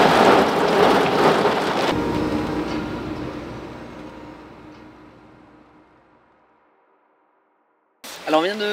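Heavy rain pours in a loud rushing wash with a rumble of thunder, heard from inside a converted camper van, fading away before a brief burst of voice at the end.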